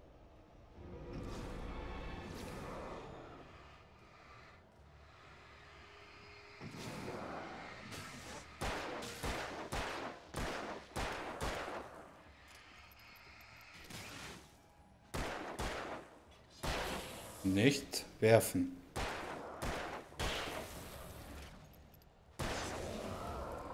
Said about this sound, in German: Jetzt fängt das Geballer wieder an.